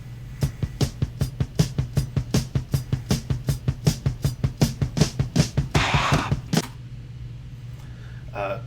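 Intro music of a song, played back from a WAV file: a fast, steady train of loud rhythmic hits over a held low tone, breaking off abruptly near the end.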